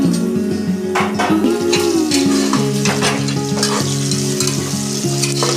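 Tomatoes tumbling into eggplant already frying in a pan for a traditional Khandeshi khichdi, a loud close sizzle with stirring, alongside steady background music and no talk.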